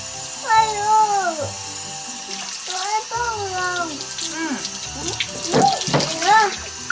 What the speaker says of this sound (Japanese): 泡を流してください。